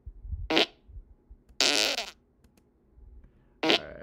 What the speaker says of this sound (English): I cannot believe I just picked out a fart sound.